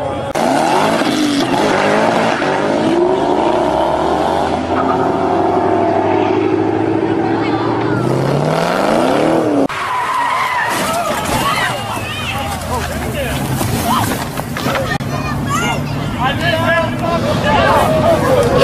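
Car doing a burnout with tires skidding, engine screaming at high revs and rubber squealing as it surges and pitches up. Crowd voices and shouting break in partway through.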